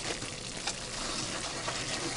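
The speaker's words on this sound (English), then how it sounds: "Let's get our roux good and bubbling" Roux for sausage gravy bubbling in a cast iron skillet, a steady soft hiss and crackle of fat and flour frying, close and continuous throughout with no voice.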